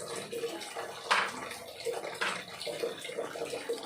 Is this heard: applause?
no